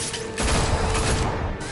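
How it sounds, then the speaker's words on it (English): Gunfire in the Telltale Batman video game comes as a loud, dense burst of shots under a noisy wash, close and continuous for most of the moment. "It's Batman! Shoot him!"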